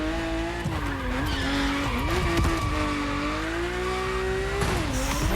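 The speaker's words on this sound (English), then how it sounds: "Hypercars drift amazingly." A hypercar drifting, its tires squealing in a long, loud, wavering skid over steady engine roar, the pitch sliding up and down as the angle changes.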